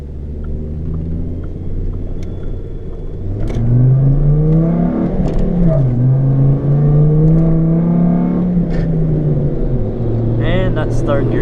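A car climbing a mountain road shifts into third gear with a worn synchro: a low engine rumble rises as it revs, a roughness marks the shift, then a steady drone continues, loud and close.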